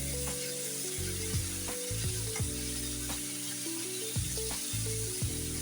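Chicken fries in mustard oil for a Bihar-style chicken curry, a constant loud sizzle with periodic spatula scrapes and stirring knocks against the pan, mixed with low humming kitchen tones.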